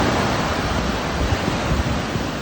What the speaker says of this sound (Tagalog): Sabi mo alon.